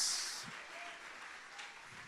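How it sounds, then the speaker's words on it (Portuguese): Congregation applause during a Portuguese-language church worship service, a faint, diffuse wash of clapping that fades gradually over about two seconds, with no voices on top. "Você pode dar uma salva de palmas para o Senhor Jesus"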